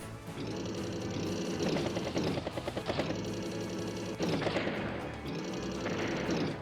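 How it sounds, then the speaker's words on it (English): A battlecopter attacking in the Advance Wars video game, rapid rattling machine-gun bursts repeating in cycles over layered game music, steady and moderately loud. "That's like another battlecopter there."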